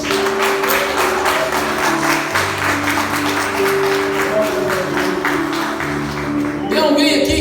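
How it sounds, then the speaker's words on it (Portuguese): A church congregation claps and applauds in a dense, continuous patter throughout, with voices and music carrying beneath the clapping. "Quem recebeu essa palavra, levanta a mão e aplauda Jesus"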